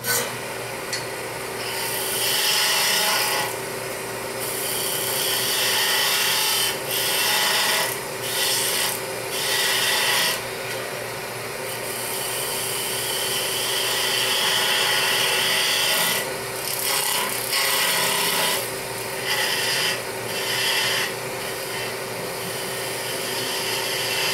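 Wood spins on a lathe while the backside of carved sea shell forms is turned, producing a loud, continuous rasping and scraping of the cutting tool, broken by short pauses and changes in pressure.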